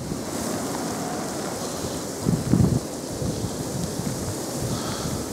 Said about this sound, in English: Hailstones are coming down.